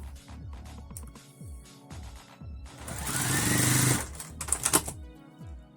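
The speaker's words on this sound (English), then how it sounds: "I'm going to do a top stitch down on it" A sewing machine runs top stitching down a long strip of fabric, with short bursts of rapid needle chatter, a louder sustained run in the middle, then more brief stitching bursts.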